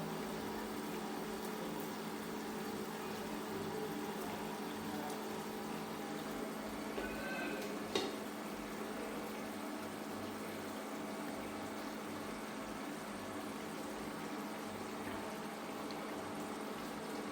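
A pot of eggplant and fish curry boils with a faint, steady bubbling hiss and one soft clink partway through.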